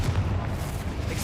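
A Bombarda explosion spell blasting in the Hogwarts Legacy game, heard as a low, rumbling boom that fills the short moment at moderate loudness with no voices over it.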